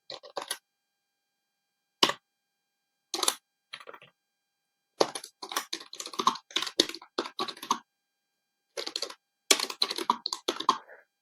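Code being typed on a computer keyboard, close crisp key clicks arriving in short scattered bursts separated by pauses, with a denser run of keystrokes near the end.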